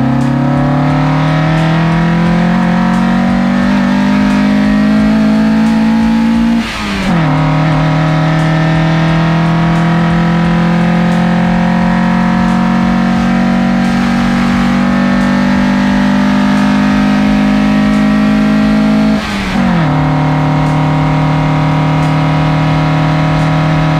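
Ziegler Racing 1.8-litre 8-valve hill-climb engine in a Golf 2, carburettors bored out to 43 mm, held at a loud steady high idle with sharp throttle blips around the middle and near the end, each dropping back to a rumble.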